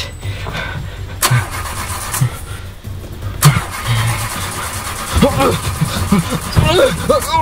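An engine cranks repeatedly without catching, several loud starter bursts separated by pauses, with speech and other voices heard between attempts.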